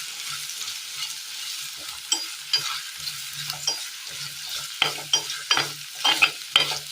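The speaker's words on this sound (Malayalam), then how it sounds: "നമ്മൾ അരിഞ്ഞു വെച്ചിരിക്കുന്ന ക്യാരറ്റ് ഇട്ട് കൊടുക്കാം. ജസ്റ്റ് ഇതൊന്ന് വാട്ടിയെടുക്കേണ്ടതായിട്ടുണ്ട്." Chopped carrots sauté in a pan for a Kerala vegetable curry: a soft background sizzle broken by repeated scraping stirs and clinks of a spoon against the pan, close and intermittent, growing busier toward the end.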